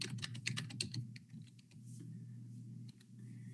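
Typing on a computer keyboard, a quick burst of light clicking keystrokes that thins to a few scattered taps over a quiet room hum.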